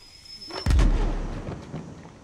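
A flashbang grenade explodes in a tense scene from The Last of Us TV series: a sudden loud close blast with a long rumbling decay, after a thin high whine, with no voices.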